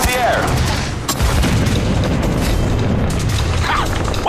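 Barrel bombs burst in a Far Cry 4 battle as a dense run of heavy booms and rumbling blasts with crackling debris, loud and continuous, while a voice speaks over it.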